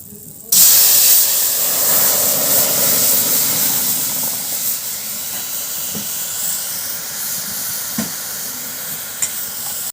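Thinned mustard paste hits hot fish-frying oil with a sudden loud sizzle and steamy hiss that starts abruptly and holds steady, fading only slightly, with a couple of faint clinks.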